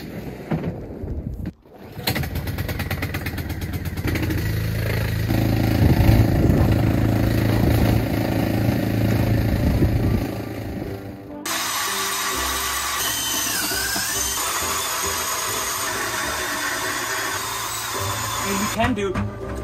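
A powered ice auger drills holes for ice fishing, its engine droning loud and steady for several seconds, cutting out, then starting again with a second long run; people talk intermittently nearby.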